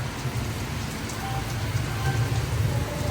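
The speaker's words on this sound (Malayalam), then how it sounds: "നമ്മൾ ഈ കോരിച്ചൊരിയുന്ന മഴ എന്നൊക്കെ കിട്ടിയിട്ടില്ലേ അതാണ് ഗൈസ് ഇത്" A steady heavy downpour, heard from inside a train, patters and hisses without pause, with a low rumble beneath the rain.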